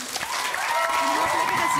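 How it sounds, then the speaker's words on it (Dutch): Audience applause at a children's talent show preliminary round, steady clapping filling the whole stretch while a host's voice carries over it. "Geef ze een groot applaus, Carmen en Pim."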